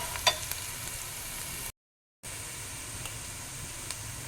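Onion pieces fry in hot oil until browned, a steady soft sizzle and hiss close by, broken by one brief pause and a few small pops and stirring clicks.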